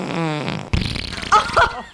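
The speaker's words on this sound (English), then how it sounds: "These farts sound great." A comic fart sound from a novelty fart library, a low rippling buzz followed by a couple of short, sputtering bursts, close and isolated.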